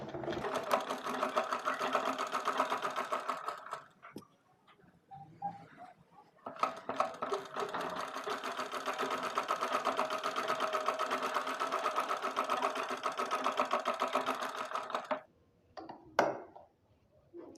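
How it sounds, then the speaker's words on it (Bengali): A sewing machine stitches newborn nappy fabric from one corner, running in two long steady bursts with a short pause between and a brief clunk of handling near the end. "এখন আমি এই কর্নার থেকে সেলাই করে নিচ্ছি।"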